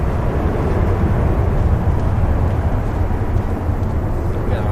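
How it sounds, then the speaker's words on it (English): A SunExpress airliner climbing out from runway 23 left at Manchester Airport produces a loud, steady jet roar, full and unbroken, heard from fairly close range. "The Sun Express beginning the climb out from Manchester's 23 left"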